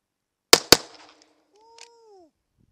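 A handgun fires two quick close shots as a double tap in a shooting drill, sharp loud cracks about a fifth of a second apart, followed by a brief electronic timer beep and quiet.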